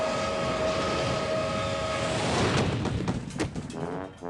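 Cartoon toy train sound effect: a sustained whistle-like horn tone over rumbling, then rhythmic clattering chugs in the second half, loud and alone without any talk.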